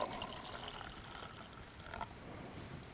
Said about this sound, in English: Pour the water into the cup.